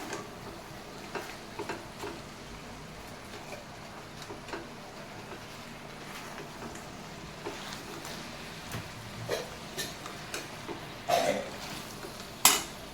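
Paneer chilli and sauces are stirred in a pan, giving soft intermittent scraping and clinks of a spoon against metal over a low background, with a few sharper knocks toward the end.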